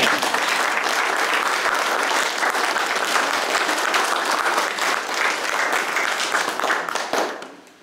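Wedding guests at a civil ceremony break into loud, sustained applause, a dense roar of many hands clapping close by for several seconds before it tapers off at the end.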